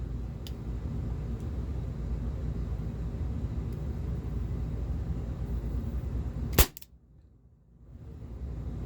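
A single sharp shot from a Walther P38 4.5mm CO2 air pistol cracks out over a steady low background rumble, followed by a sudden near-silence.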